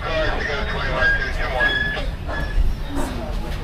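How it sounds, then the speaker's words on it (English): A heritage passenger train rolls back into the station at the end of a run from Penobscot to Nesquehoning, giving a steady rumble and rail noise with faint squeals, while people talk over it. "now you're watching our first train return to it."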